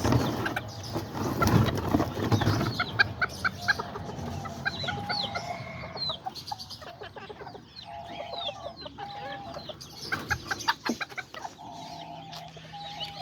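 Hens cluck by a nest in a backyard coop, a steady stream of close, overlapping clucks and short calls over a busy background, louder at the start and fluctuating throughout.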